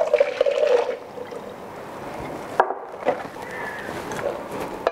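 Boiling water poured from a kettle over beans and snow peas, splashing and pouring briefly at first, then settling into a faint trickle with a few small knocks, close by.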